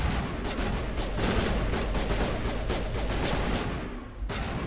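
Rapid bursts of gunfire in the Mass Effect Legendary Edition video game, a dense continuous fusillade of shots at steady loudness that dips briefly near the end before resuming.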